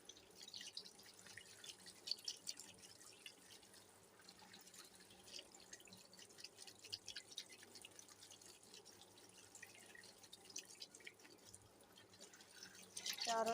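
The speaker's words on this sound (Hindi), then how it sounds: "इसलिए पानी ऐसे निकल रहा है।" Tap water runs steadily while material is washed under it, a hand held in the stream scattering the flow into a continuous splashing hiss with dripping, close and moderately loud, growing louder near the end.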